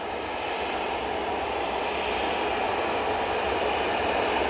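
Ryanair jet at Manchester Airport, departing for Milan, engines spooling up in a steady, loud broadband roar that holds constant throughout with no talk.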